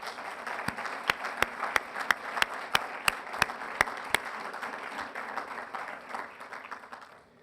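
Applause from a crowd at a school district briefing, a broad steady patter with one nearby person's loud, evenly spaced claps on top, thinning and fading away after about six seconds.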